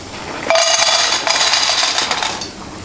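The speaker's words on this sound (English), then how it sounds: "So the pasta goes in to our rolling, boiling water." Dry farfalle pasta pours into a pot of rolling boiling water, a sudden rattling clatter of pieces hitting metal that rushes on for a couple of seconds before tapering off.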